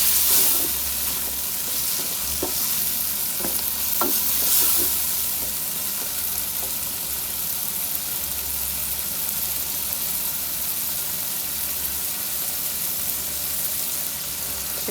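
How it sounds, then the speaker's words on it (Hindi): Green chillies frying in a pan for chicken vegetable samosa filling give a steady, close hiss of oil that runs unbroken, with a few small pops and ticks early on. "ये हरी मिर्च डाल दी मैंने, साथ में फ्राई हो जाएंगी।"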